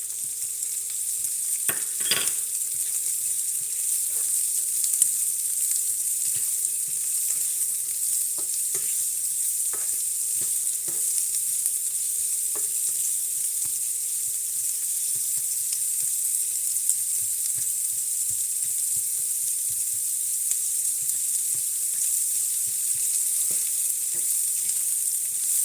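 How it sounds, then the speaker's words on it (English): Carrots and onions sizzle steadily in a frying pan for pork chop preparation, with occasional utensil scrapes and clicks as the vegetables are stirred; a constant bright hiss runs throughout with no talking. "I'm going to put the carrots in here to cook for a while."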